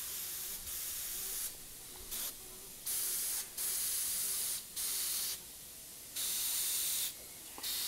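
An airbrush sprays black paint in repeated bursts of steady hiss, each lasting about a second or more, separated by short pauses, close and fairly loud with no talking.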